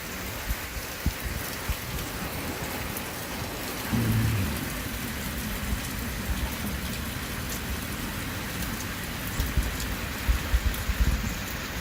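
Rain falling steadily at a campground, a constant dense patter with occasional louder drips and faint low rumbles, no voices heard.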